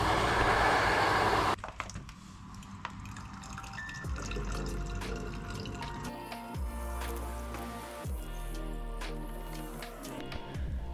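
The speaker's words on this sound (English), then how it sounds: "So we're just filling up on water." Water from a tap fills bottles at a stop on a coast-to-coast bikepacking ride, a loud rushing gush at first, then a steadier trickling pour with drips, close by and without talk.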